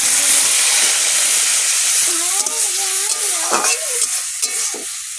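Prawns frying in hot oil seasoned with turmeric give a loud, steady, close sizzle throughout, with faint tonal sounds and a soft voice rising partway through.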